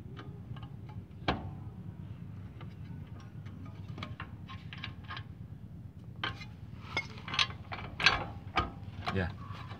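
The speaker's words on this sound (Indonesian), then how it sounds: "Coba kita dongkrak naikin dikit." A car jack is pumped to lift an Isuzu Panther during a lower ball joint replacement, giving soft repeated ratcheting clicks and mechanical ticks at close range over a steady low hum, with a few louder clacks near the end.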